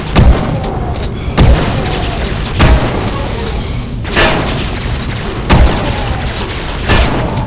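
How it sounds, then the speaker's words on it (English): Repeated heavy booms in the first-person shooter Duke Nukem 3D as pipe bombs and gunfire go off, a series of deep thudding blasts about every second or so over a dense, noisy game background. "Let's throw a pipe bomb in there."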